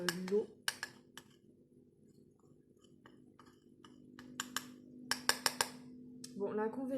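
A mini whisk stirs a homemade face-care mixture in a small bowl, giving scattered light clinks and scrapes, with someone talking over it.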